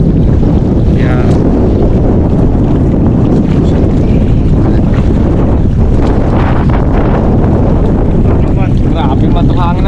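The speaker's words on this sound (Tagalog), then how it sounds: "Grabe man itong hangin na to." Strong wind buffets the microphone outdoors near a boat on the water, a steady loud roar throughout with people speaking faintly underneath.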